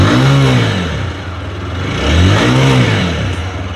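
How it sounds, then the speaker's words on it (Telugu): A TVS Apache motorcycle revs twice, its exhaust rising and falling in two close, loud swells over a steady idle. "సో హియర్ ఇప్పుడు ఎగ్జాస్ట్ నోట్ మనం విందాము"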